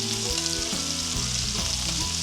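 Scallops searing in a hot pan give a loud, steady, dense sizzle with a broad hiss and faint crackle throughout, close and alone with no voices.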